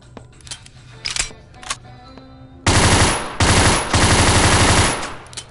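TMP submachine gun in the VR shooting game Gun Club VR, a few faint clicks and handling taps, then two loud sustained bursts of rapid automatic fire at close range.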